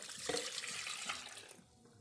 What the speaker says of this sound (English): we're going to add 1 cup of lukewarm milk.